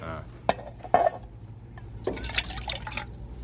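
Water poured from a water bag into a pan, heard as a few splashy pours and metallic clinks under faint background noise, close by.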